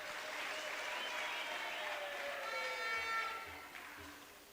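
Audience applause at a university graduation ceremony, sustained crowd clapping in a large hall, fairly distant and even, tapering off toward the end.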